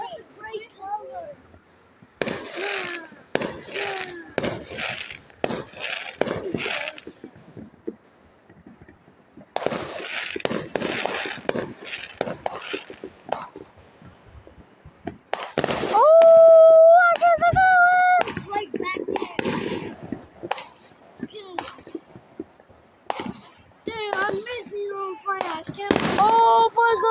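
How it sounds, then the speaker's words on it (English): Fireworks and firecrackers including cherry bombs burst in rapid crackling volleys and sharp pops at a July 4 celebration, with whistling rockets and people talking and exclaiming between the loud clusters of bangs. "That's a cherry bomb, like a firework cherry bomb."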